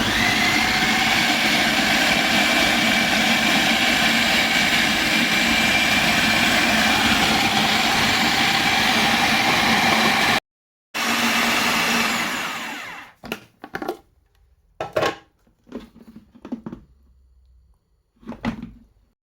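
An electric food chopper grinds a marinade of spices, lemon juice and oil, running as a steady loud whir for about ten seconds, briefly stopping, restarting, then cutting out to leave scattered knocks and clatter.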